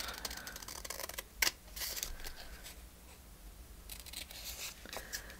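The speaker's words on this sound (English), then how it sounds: "But I want to cut this extra white edge off." Scissors trimming the white edge from a paper label sticker: faint, quiet snips and paper rustles, a few crisp cuts with one sharper snap, close and alone.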